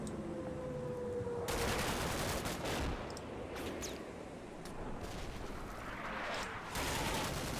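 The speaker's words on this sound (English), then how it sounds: "Yeah, that was a bit of 50 cal fire." .50 cal machine gun fire in the Combat Mission Cold War video game: bursts of rapid, crackling automatic fire, moderately distant, repeating in several sustained volleys with short gaps between them.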